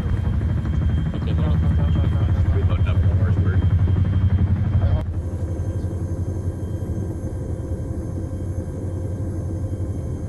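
Helicopter in the military video game Arma 3, a loud steady rotor and engine rumble throughout, easing slightly halfway as the view shifts, with voices talking over it.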